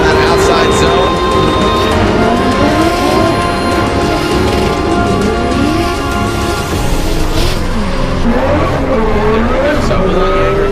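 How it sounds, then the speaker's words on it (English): A Toyota 86 drift car at a Formula Drift competition in Texas, its engine roaring loudly and steadily while tires squeal and skid through a corner, with constant crowd and track noise around it. "Some sparks being thrown there by Sexsmith, the Envy Auto, Toyota 86."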